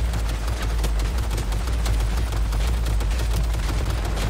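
Rapid gunfire in Cyberpunk 2077: dense, loud bursts of shots crackle continuously, rattling like an automatic weapon with no pauses.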